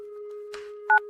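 Telephone dialing a call: a steady tone holds under a short burst of noise, then one louder dial beep near the end.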